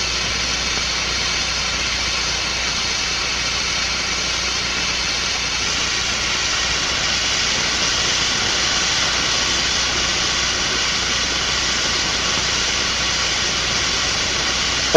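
An air jet blowing steadily against a flat plate in a fluid-pressure demonstration, a constant, even hiss that holds unchanged for the whole stretch with no voices.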